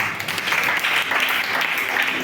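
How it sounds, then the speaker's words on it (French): A church congregation claps and cheers to acclaim the Lord during a service, a dense, steady wash of applause with a few voices mixed in throughout. "Est-ce qu'on peut acclamer le Seigneur?"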